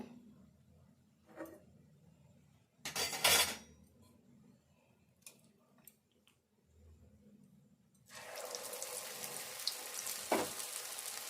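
Cauliflower pakoda frying in hot oil: faint crackles at first with clinks of utensils, then from about eight seconds a steady loud bubbling sizzle as more battered florets drop into the oil.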